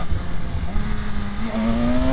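A 2025 BMW S1000RR motorcycle engine drones loud and close, its pitch climbing steadily as it revs higher.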